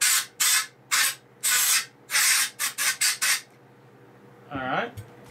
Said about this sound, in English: I got a can of that compressed air, or not compressed, but air in a can that people use for computers